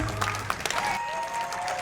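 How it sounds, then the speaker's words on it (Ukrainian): An audience at a film screening applauds with a continuous patter of clapping that holds steady throughout and is fairly close. "Дякую за аплодисменти."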